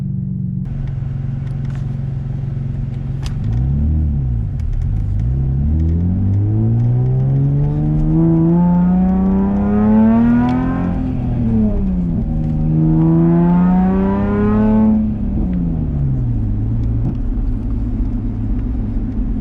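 Nissan 350Z with a straight pipe exhaust driving at about 40 mph, a loud continuous engine drone with two rising and falling revs and a deep low rumble throughout, no voices.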